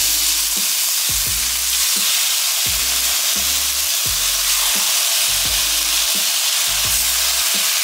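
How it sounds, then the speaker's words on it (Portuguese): Chicken sizzles and crackles steadily in a hot pan with olive oil and onion, with repeated scraping and stirring knocks throughout. "Panela quente. Coloca o frango."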